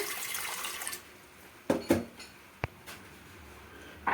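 Water pours into a pressure cooker holding half a cup of chickpeas on a gas stove, splashing steadily for about a second, followed by a few sharp clanks and taps of the pot.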